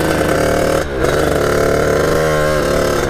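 A Kawasaki KX80 big bore dirt bike engine revs hard and close, loud and sustained, its pitch climbing and falling with the throttle and dipping briefly near the start.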